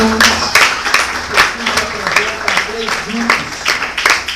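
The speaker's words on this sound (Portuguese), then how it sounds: "Pode aplaudir a Jesus, glorificar o nome de Jesus." Congregation applauding in a church service, rhythmic clapping bursts roughly every half second, fairly loud and close, with voices mixed in.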